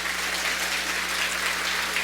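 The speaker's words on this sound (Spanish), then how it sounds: "Démosle un fuerte aplauso al Señor." Church congregation applauding during a Spanish-language Catholic sermon, a steady dense wash of many hands clapping at once, sustained and even for about two seconds with no talk over it.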